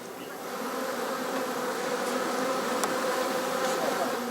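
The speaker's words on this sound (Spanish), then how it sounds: "Viajan con sus colmenas buscando los campos de flores." Steady dense buzzing of many honeybees around beehives kept by migratory beekeepers in Tibet, a continuous close swarm drone with no voices.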